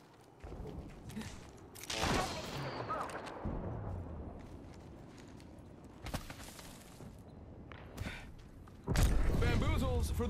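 Gunfire bursts and impact thuds in the game Apex Legends, irregular loud volleys scattered across the clip with heavier sustained firing near the end, mixed under in-game voice callouts.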